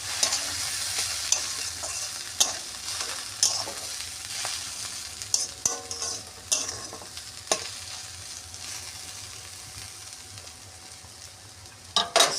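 Potato and jackfruit seeds fry on low heat in a pan, with a soft continuous sizzle and occasional scraping stirs and clinks of a spatula and lid, close and steady.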